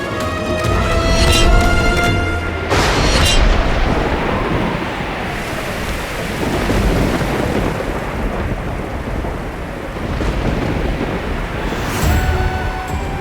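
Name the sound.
heavy rain with thunder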